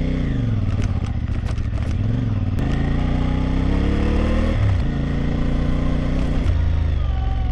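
A heavy adventure motorcycle labours over a rough, technical mountain road at Black Stone Hill in Tineg, Abra, its engine droning loud and continuous with shifting revs, rattles and clatter over the bumps.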